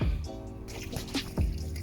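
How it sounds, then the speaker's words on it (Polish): Half a bucket of water sloshes and drains off the body of a Passat, running and dripping close by with splashy trickles throughout, and a voice murmurs briefly. "Właśnie wylałem pół wiadra wody."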